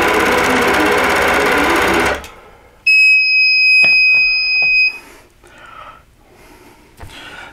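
A quilting machine stitches a wholecloth quilt section in a loud, dense burst. It stops abruptly and is followed by a piercing electronic beep tone, then quiet handling sounds.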